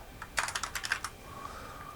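A short, fast run of about eight computer keyboard keystrokes, close and crisp, then quiet room tone, with no one speaking.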